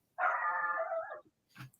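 A man imitates a dog with a single drawn-out, howl-like bark of about one second, close and clear, followed by a short breathy sound.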